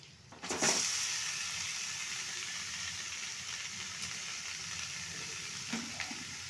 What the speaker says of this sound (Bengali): এরপর আমি কষে নেব ভালোভাবে